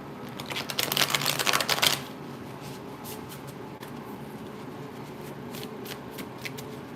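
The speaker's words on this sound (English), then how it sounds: "I gotta shuffle these a little." A deck of oracle cards is riffle-shuffled in one quick crisp burst lasting about a second and a half, followed by quiet room tone with a few faint taps.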